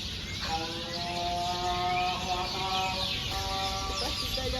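Birds calling at sunset in Taghazout, Morocco: a couple of drawn-out, clucking, rooster-like calls rise over a steady outdoor hum and faint chirping, moderately close.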